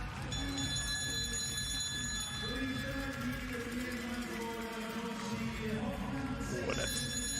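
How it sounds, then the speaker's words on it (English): The lap bell rings for the final lap at a speed skating World Championships session in Hamar, a sustained metallic ringing over a noisy indoor arena crowd. "Now move towards the bell for the last lap."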